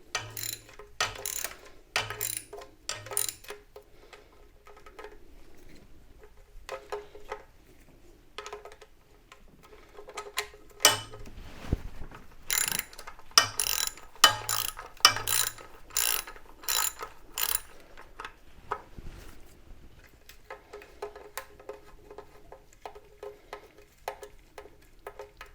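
Ratchet wrench loosening valve cover bolts on a Chevy 350 small block V8 in a C3 Corvette, quick bursts of close clicking repeated with pauses between bolts.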